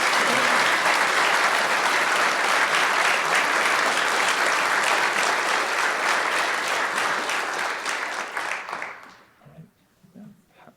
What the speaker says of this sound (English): let's give a round of applause to Lieutenant Michael Luna.